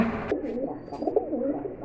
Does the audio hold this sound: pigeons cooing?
yes